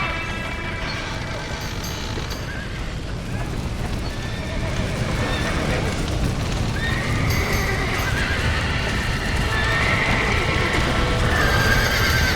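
Horse neighs and whinnies over steady clip-clop of galloping hooves in the Red Dead Redemption video game, loud and continuous with game ambience and some talk throughout.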